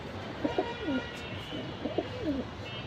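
Silver and military pigeons in a loft coo in two soft, rolling phrases close by, over a steady low background hum with no talking.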